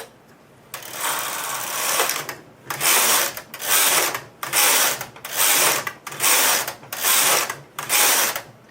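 A knitting machine carriage runs back and forth knitting rows of waste yarn, giving seven loud, evenly spaced mechanical whirring passes separated by short pauses, close up and with no voices.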